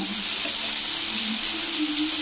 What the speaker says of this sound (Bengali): আমার মোটামুটি শিং মাছ ভাজা হয়ে গেছে,